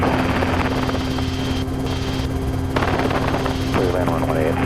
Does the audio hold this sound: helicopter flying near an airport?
yes